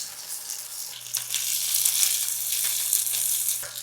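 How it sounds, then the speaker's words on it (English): Beans sizzle with tomatoes, onions and garlic in a pan, a steady soft crackle with a few brief louder spits and stirring, heard alone. "Just gonna saute this for a few minutes"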